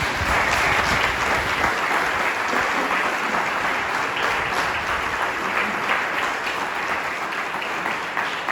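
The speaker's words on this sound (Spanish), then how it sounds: "¿Puede darle un aplauso al Señor?" A church congregation claps for the Lord, a broad sustained roar of many hands that stays loud and even throughout.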